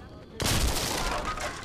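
A thunder bomb blasts open a sealed well in the video game Assassin's Creed Revelations, a single sudden loud burst after a brief quiet lead-in, followed by a sustained crackling roar.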